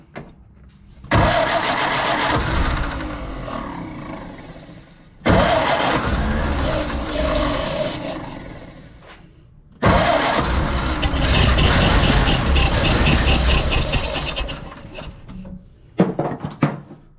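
The starter cranks a 1931 Ford Model A engine in three long, loud, close bursts of rhythmic churning, each spell followed by a pause, with no sign of the engine catching.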